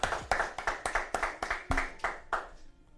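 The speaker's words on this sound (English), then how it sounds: "If you in the building right now, clap it up for our special guest." Clapping for a special guest at a radio interview: a quick, even run of about ten sharp claps, close and fairly loud, that trails off near the end with no talking.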